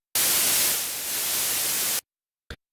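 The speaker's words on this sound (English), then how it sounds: "You also have a noise generator here, which we can bring up in the mixer as well." A burst of loud, flat hiss from a Synapse Audio Dune 2 synthesizer's noise generator, lasting about two seconds, cutting off abruptly, followed by a brief second blip of noise.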